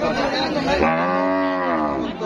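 A large Holstein Friesian cow lets out one long, loud, close moo at a busy cattle market, with crowd chatter faintly behind.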